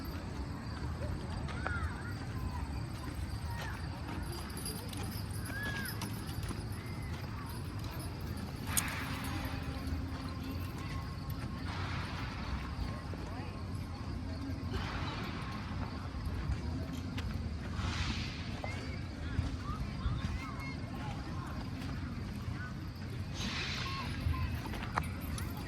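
Team of draft horses clip-clopping around an outdoor show ring at a county fair draft horse show, hooves steady under a loud PA announcer and crowd murmur.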